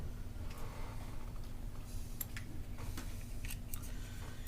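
Cutters snipping the tails off cinched cable ties on an outdoor fiber distribution closure, a few sharp clicks and snips spread over a steady low hum, close and fairly quiet.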